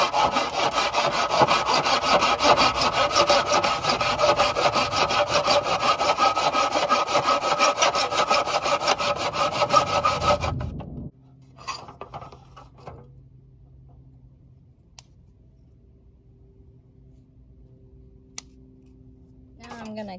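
Steady, loud back-and-forth sawing through a piece of wood cut in half for an air fryer handle repair, about ten seconds of continuous strokes that stop abruptly, followed by quiet handling clatter.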